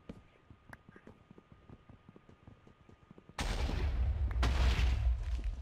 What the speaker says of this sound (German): Und da explodieren schon die ersten Sachen.